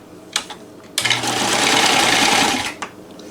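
A NELCO L 400 zig zag sewing machine stitches in a loud, steady whirring run of about two seconds, framed by a few clicks before and after.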